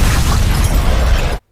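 A tank explodes in a scene from the film Batman v Superman: a loud, dense roaring blast with deep rumble that holds steady for over a second, then cuts off abruptly to silence.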